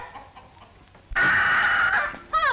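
Chickens burst into loud, close clucking and squawking, a sustained flurry of agitated calls that ends in a couple of sharper cries, heard in a 1937 film farmyard scene with no talking.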